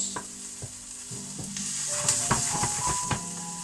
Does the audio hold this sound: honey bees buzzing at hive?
no